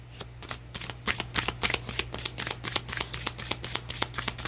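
A deck of Green Witch Oracle cards is shuffled by hand in a fast run of close, crisp riffling flicks over a low background hum, with no talk.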